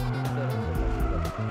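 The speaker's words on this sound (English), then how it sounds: "You step on the gas and turn the car sideways." An old car is thrown sideways through a corner under throttle with tires squealing and skidding, the engine droning loudly and steadily throughout, with no break in the noise.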